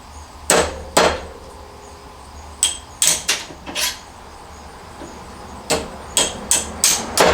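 A hammer strikes a big copper stator to knock the metals apart by hand, with about eleven sharp metallic bangs in irregular bursts, loud and close, with brief ringing between blows.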